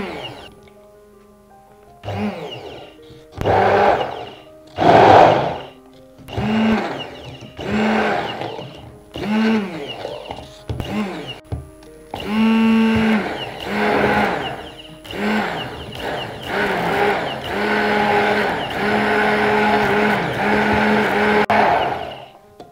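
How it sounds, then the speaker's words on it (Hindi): Kitchen blender whirring through Oreo cookies, milk and vanilla ice cream for a milkshake, running in repeated short loud bursts that turn into a longer continuous grinding spin near the end. "आइए अब हम इसे ब्लेंड कर लेते हैं।"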